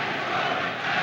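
A massed crowd in Montreal chants for de Gaulle, a brief, loud, dense wash of voices with no single speaker standing out.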